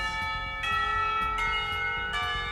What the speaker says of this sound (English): I'd argue more, but the bell rings.